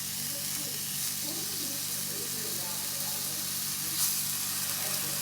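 Roughly 16 ounces of beef patties browning in a hot pan, a steady soft hiss and sizzle that stays even and fairly quiet, with a faint brief crackle near the end.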